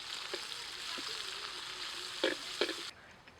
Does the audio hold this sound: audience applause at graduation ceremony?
no